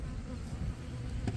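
Honeybees buzzing around open hive frames during an inspection, a dense continuous hum close by and moderately loud, with no talk.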